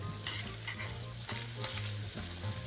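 Chicken fries in a hot iron pan with a steady, loud sizzle and crackle, punctuated by periodic scraping strokes as it is stirred, with no voices.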